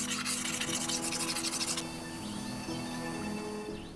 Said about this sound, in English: it's easier to remove some of the original finishes with different carbide scrapers